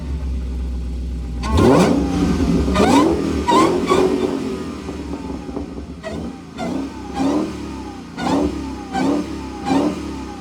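A 1025 HP Dodge Demon 170 with alcohol injection fires up with a low idle, then a burst of sharp revs, followed by a string of repeated throttle blips that climb and fall, loud and close with no talking.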